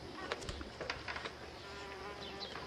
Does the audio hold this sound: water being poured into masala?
no